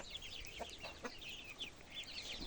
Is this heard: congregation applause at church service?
no